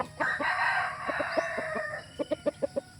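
A Red Kelso gamecock rooster crows loudly and close, its long drawn call followed by a string of short clucks.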